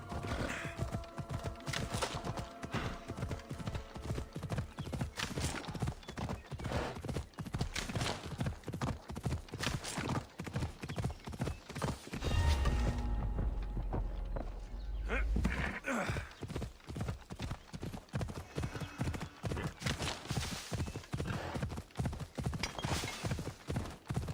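Horse galloping in Assassin's Creed Odyssey, a steady rapid clip-clop of hooves running nearly the whole time, loud and close, with a deep thump partway through.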